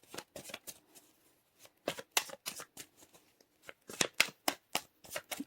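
Tarot cards being shuffled for a reading, a rapid run of crisp riffling bursts in irregular groups with short pauses, close and clear with no talking.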